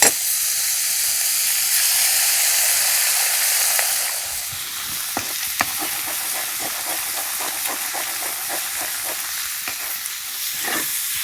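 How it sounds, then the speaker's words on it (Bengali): An egg cracked into a hot pan beside colourful vegetables fries with a loud, steady sizzle that drops to a softer hiss after a few seconds, broken by close, quick clicks and scrapes of a spatula. "একটা ডিম নিয়েছি ডিমটা ফাটিয়ে দিয়ে দেবো"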